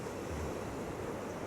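Calm sea waves wash onto an island beach in a light breeze, making a steady, soft broadband rush with no distinct breaks and no voices.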